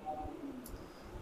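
Kaldume pigeons in Muzaffarnagar, India, coo softly, low murmuring calls heard faintly over quiet background noise.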